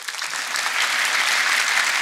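A concert audience at a Logari folk music show claps loudly and continuously, dense applause building in the first moments and then holding steady.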